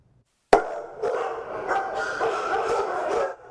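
Many dogs at an animal shelter bark and yip together in a reverberant space, a sudden loud burst followed by a steady chorus of overlapping barks.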